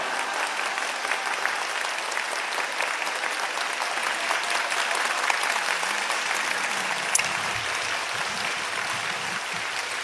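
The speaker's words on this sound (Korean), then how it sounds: "할렐루야로 하나님께 영광의 박수 올려드립니다." Congregation applause at a Wednesday worship service at Yeouido Full Gospel Church, a large crowd clapping in a continuous steady roar that fills the whole stretch, heard alone without speech.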